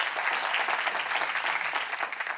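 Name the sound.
audience applause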